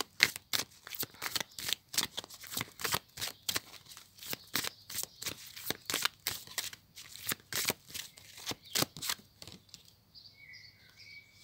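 Angel oracle cards are shuffled in a steady, rapid series of crisp riffling bursts lasting about ten seconds, close and fairly quiet, ending with a faint high tone.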